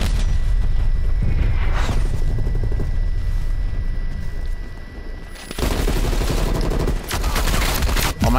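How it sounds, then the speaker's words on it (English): Artillery strike explosions in Call of Duty: Black Ops Cold War, with loud, dense booms and rumbling blasts that keep going through the clip alongside heavy gunfire. A strong burst of impacts lands about halfway through. "Artillery inbound."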